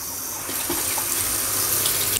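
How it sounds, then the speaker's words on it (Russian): Hot water pouring from a kitchen sink tap into a large sink, a steady close splashing rush that starts softly and grows fuller, with no voices. "И включаем горячую воду."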